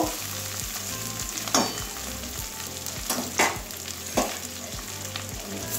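Taro pieces frying in a pan for a spicy curry, giving a continuous close sizzle with occasional louder stirring scrapes and clinks punctuating the steady hiss.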